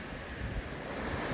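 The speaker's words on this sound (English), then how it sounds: "We're going to explore what looks like a waterfall right below this bridge" Steady rushing water from a small waterfall below a road bridge on Westfield Municipal Water Supply land near Tekoa Mountain, Massachusetts, a broad continuous roar with some wind noise and no talk.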